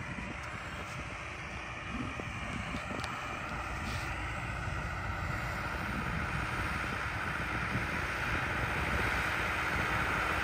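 Tractor pulling a vibroculteur cultivator through a field, a steady low engine drone with rattling and rumbling, wind noise over the microphone, continuous throughout.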